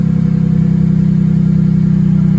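A 2016 Ford F-150 with the 2.7L EcoBoost engine, a welded Thrush muffler and a resonator-delete side-exit exhaust idles steadily with a low, even rumble. It sounds close and fairly loud, with no voices.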